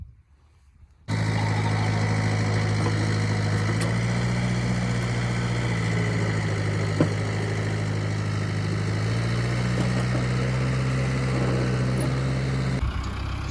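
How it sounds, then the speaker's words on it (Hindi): A farm tractor's diesel engine runs steadily at close range, a loud, even rumble that starts abruptly after a second of quiet and holds constant, with a brief clunk partway through and no speech. "ट्रैक्टर तो आ गया है ये करा लेके"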